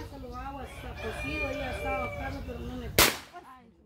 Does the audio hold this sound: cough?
no